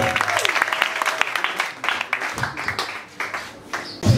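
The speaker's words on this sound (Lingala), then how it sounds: "Est-ce qu'on peut vraiment applaudir ça?" An audience at a Caroline Cheka foundation event claps through a sustained burst of applause, dense overlapping hand claps rising and falling with voices mixed in.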